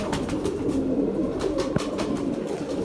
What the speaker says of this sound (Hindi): बहुत खूबसूरत कबूतर है